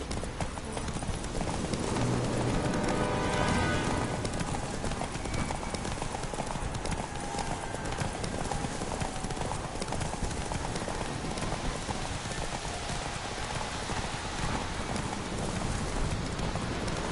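Horse hooves clip-clop at a steady galloping pace throughout a race in The Witcher 3, loud and continuous, with light rain-like patter and occasional rider voices mixed underneath.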